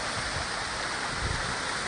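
A small waterfall near a lake pours steadily, making a loud, continuous rushing wash of water close by with no voices.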